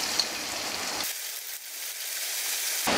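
Chopped onion hits leftover mutton-frying oil and sizzles with a bright, steady hiss that briefly thins midway, then surges back loud and close.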